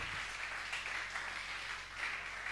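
A church congregation applauds and cheers for their pastor during a service, a steady dense wash of clapping that stays loud and even throughout with no speech over it.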